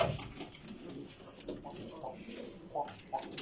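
Pigeons with newly hatched chicks in a loft coo softly in short, muffled bursts, spaced unevenly over faint background rustling.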